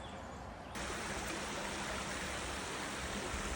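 A high creek flows beside a muddy nature trail, its steady broadband rush filling the clip, quieter for the first moment and then louder and constant.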